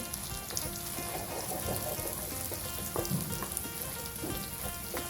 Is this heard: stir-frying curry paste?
yes